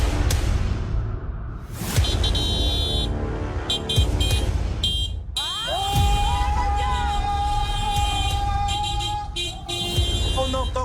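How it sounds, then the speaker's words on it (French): Car horns honk in traffic on a street, with several toots and one long sustained blare mixed with road noise and engine sound, while people talk over them. "On entend que ça klaxonne"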